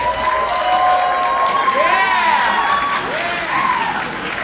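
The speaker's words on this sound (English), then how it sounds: "make some round of applause" A comedy club audience at a crowd-work stand-up show bursts into loud applause and cheering, with whoops and shouted voices rising over dense, steady clapping.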